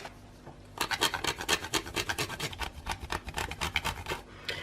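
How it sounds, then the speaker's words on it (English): Dark chocolate is scraped against a grater for a keto mousse, making a quick run of close rasping strokes in a steady rhythm, loud and alone after a short quiet start. "You'll find a little goes a long way when you're grating chocolate like this."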